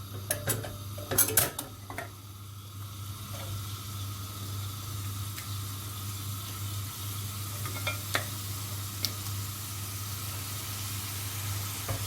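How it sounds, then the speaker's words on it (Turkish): Marinated lamb chops hit a heated pan: a few clinks and scrapes of handling and stirring at the start, then a steady, fairly quiet sizzle with a low hum beneath, no talking. "Yine etlerimi şöyle bir karıştırıyorum ve ısınan tavama şöyle alıyorum."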